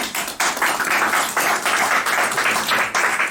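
An audience claps for the actors of a theatre reading, a loud and close continuous round of applause that swells and dips slightly over a few seconds.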